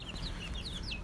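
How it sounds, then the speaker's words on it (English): Baby chicks at a South African bird and animal stall, peeping in high, rapid chirps over a steady, noisy background, close and continuous. "nice looking baby chicks. That one there is a little bit hungry."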